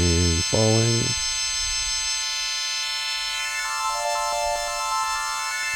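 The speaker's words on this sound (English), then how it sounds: "that's the sound of your envelope controlling your wavetable" A Dreadbox Medusa synth tone whose wavetable is swept by an envelope, so bright harmonics rise and fall while a dense, buzzy sustained timbre shifts over several seconds; a short stab opens it before the long evolving sound.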